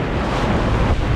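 Big ocean waves and strong wind at sea heard from aboard a fishing boat, a dense continuous roar of wind buffeting and water rushing, loud and close throughout.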